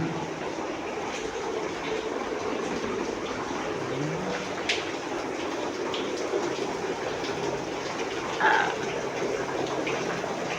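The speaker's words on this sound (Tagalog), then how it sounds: "Nadaan na naman kami ng ulan, ha?" Rain and water rushing steadily over a vehicle driving through a large tunnel in Camarines Norte, a constant loud wash of noise with a brief louder splash near the end.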